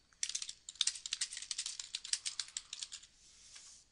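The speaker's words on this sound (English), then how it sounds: "Just simply click on the screen and start typing." Fingers type on a computer keyboard in a quiet room, a rapid, fairly even run of light clicks lasting a few seconds before tapering off.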